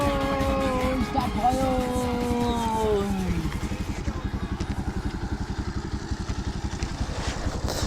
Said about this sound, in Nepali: यो बाइक चाहिँ स्टार्ट भइसकेछ।